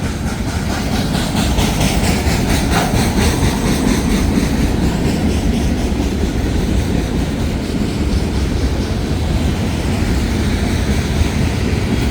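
A BNSF freight train with a foreign-power DPU at the rear rolls steadily past at Canal Ridge, a loud continuous rumble with wheel clatter and working engine noise, constant throughout with no voices.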